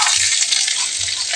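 Shrimp stirred as it fries in cooking oil in a pan, a steady close hiss of sizzling with faint scraping of the utensil, no talk.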